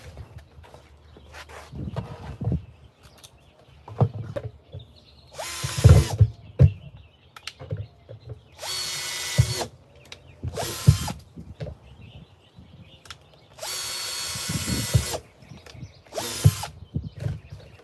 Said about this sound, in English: That's where I'm gonna drill my hole.